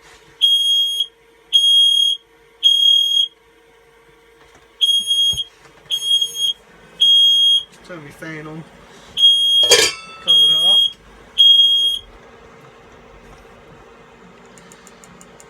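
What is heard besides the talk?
campervan smoke alarm going off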